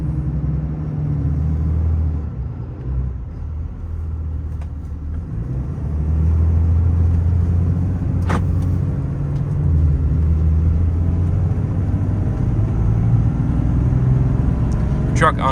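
Low, steady engine drone of a 2020 Ram 5500 four-wheel-drive diesel crew cab service truck with 143k miles cruising along, a deep rumble with shifting tone, and a voice talking over it.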